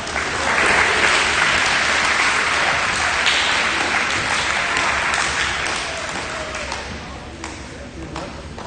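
A crowd claps loudly at a high school awards day, a dense, sustained round of applause that gradually thins toward the end, with voices faintly mixed in beneath.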